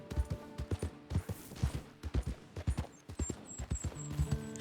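A horse named Link gallops in a video game, a steady rhythmic clip-clop of hooves at moderate distance, fairly quiet, with faint game chimes and music in the background.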